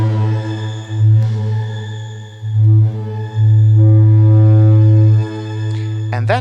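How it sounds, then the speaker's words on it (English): A loud, steady synthesizer drone from a reverb fed back into itself, swelling and ebbing in a sustained feedback tone, with a rising squeal near the end and no voices. "make it feedback by sending the reverb again into itself"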